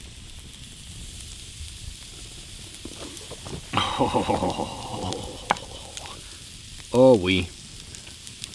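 Food sizzles and crackles over a campfire at a camp in Canada's high desert, a short burst of frying under quiet outdoor ambience, with a person briefly exclaiming nearby.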